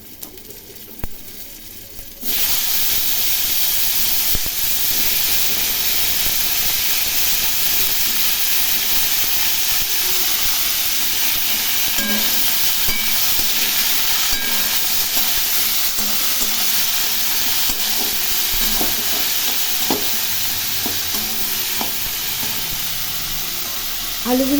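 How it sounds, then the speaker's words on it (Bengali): Cut potatoes frying in hot oil in a pan with dried and green chillies and five-spice, a loud, steady hiss and sizzle after a short quieter start, with occasional faint clinks. "আলুগুলো একটু ভালো করে ভেজে নেব।"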